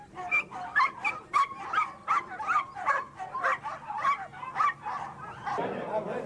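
Pack of hunting dogs at a Spanish big-game monteria barking and yelping nervously before release, a rapid, fairly close run of repeated barks in quick rhythm that continues throughout.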